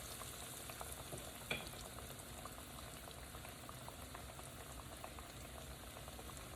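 Steady, faint bubbling sizzle of catfish pieces frying in hot grease, continuous throughout with a brief clack near the start.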